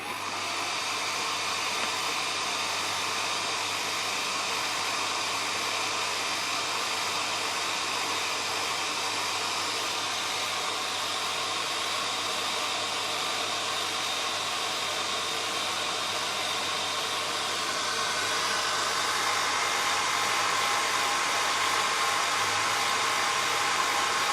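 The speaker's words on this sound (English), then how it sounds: "And this is a hairdryer." A hair dryer, held at a distance to dry out a homemade carbon battery, blows with a continuous, even whooshing hiss that holds steady throughout, its pitch rising slightly near the end.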